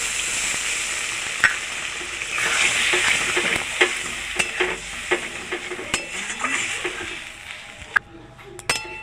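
Spiced moong dal fries loudly in a pan as water is poured in, producing a bright steady hiss and sizzle close by, with repeated clinks and scrapes of a stirring spoon.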